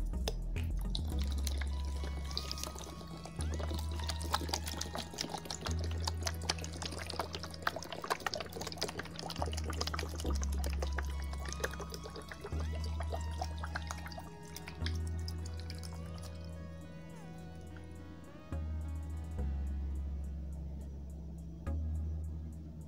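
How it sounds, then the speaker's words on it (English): Unsweetened coconut water pours and trickles steadily into a blender with dripping splashes, over a low rhythmic hum and clatter in the background, no talking. "I prefer to use coconut water, and I choose the one that doesn't have sugar. It says no sugar added. Alright, so we're gonna go ahead and pour."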